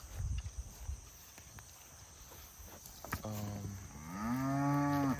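A young calf on a farm lets out a drawn-out moo near the end, close and fairly loud, after quiet rustling and soft footsteps.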